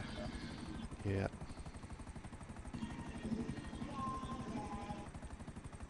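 Helicopter flying in the video game GTA Online, a steady rotor drone running under loud rock music, with a brief burst partway through and a single short spoken word.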